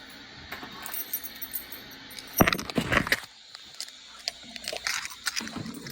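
Metal keys jangle briefly around the middle as a single key is handed over during a tense doorway exchange with a police sergeant, with scattered rustling and faint voices nearby.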